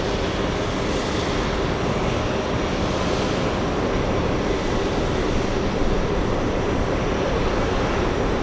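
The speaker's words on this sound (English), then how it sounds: "we have the British Speedbird 175 landing right now" A British Airways Boeing 777 landing at JFK, a loud, steady roar of jet engines and rushing air that holds evenly throughout, heard close and alone without any talk.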